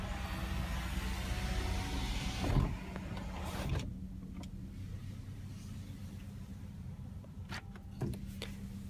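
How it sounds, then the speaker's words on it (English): A Mercedes-Benz SL400 roadster's retractable hardtop closes into a coupe, a steady electric motor whir with low mechanical hum, punctuated by a few clunks and latching thuds as the roof seats, heard close with no talking. "to put the convertible hardtop back to its place, just hold the retractable hardtop button once again"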